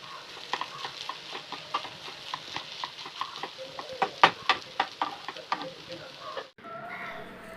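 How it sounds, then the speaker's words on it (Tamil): A spoon stirs poha biryani with fresh coriander leaves in a pan on the stove, giving repeated light scraping and clinking strokes over a soft sizzle, close and fairly quiet, ending in a brief low hum. "இப்போது இதில் கொஞ்சோண்டு கொத்தமல்லி இலை சேர்த்து மிக்ஸ் பண்ணிவிட்டு ஸ்டவ்வை ஆஃப்"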